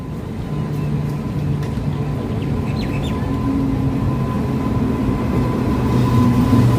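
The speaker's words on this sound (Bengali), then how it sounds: "এই ঢুকছে জঙ্গিপুর রোড এক্সপ্রেস" Jangipur Road Express pulling into a station, a steady low rumble of wheels and carriages with a faint high rail hum, holding loud and even throughout, no talking.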